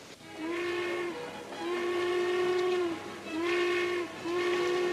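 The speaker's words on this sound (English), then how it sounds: "The train just pulled out." A steam locomotive whistle sounds in several long, steady blasts with short gaps between them as a train pulls out of the station, fairly loud and alone in an Old West setting.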